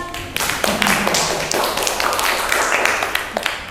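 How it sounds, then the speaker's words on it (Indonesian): A classroom group claps for the second student group after its presentation, a dense, steady patter of many hands throughout, fairly loud and close. "Tepuk tangan buat kelompok 2"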